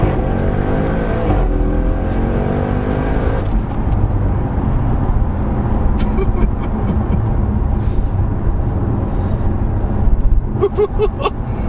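A car engine roars loudly at full throttle in an Audi RS6, pitch climbing through several gear changes, close and continuous with no talking.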